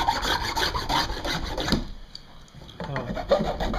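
A flat file rasps along the rough edges of a clamped wooden cutting board in close, loud scraping strokes, a short pause in the middle, then the scraping picks up again.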